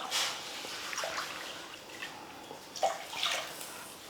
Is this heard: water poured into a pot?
yes